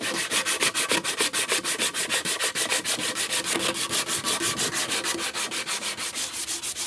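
Rapid back-and-forth strokes of 220 grit sandpaper on a wooden axe handle held in a vise, a steady rhythmic rasping that repeats about four to five times a second, close and loud with no talking.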